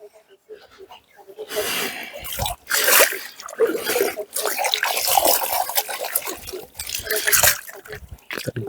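Finely sieved clay is swilled and washed in a gold pan in cold creek water, giving loud, close, irregular sloshing, gurgling and dripping in surges that stop and start.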